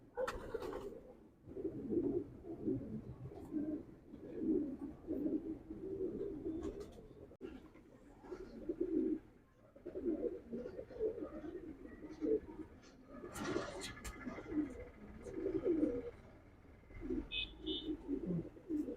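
A blue bar racing pigeon, a young bird, coos softly and repeatedly in low, rolling phrases close by, with faint background sounds.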